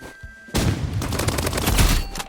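A loud, rapid burst of gunfire from Roblox Rivals, a shooter game, cracks out in a dense volley lasting under two seconds after a brief quiet lead-in.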